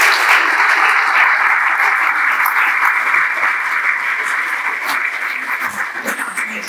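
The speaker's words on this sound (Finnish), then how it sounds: "Ja vielä aplodit, hyvät ystävät." Sustained applause from a large audience at a 50th anniversary celebration in a concert hall, with a steady dense roar of clapping that holds for the whole stretch.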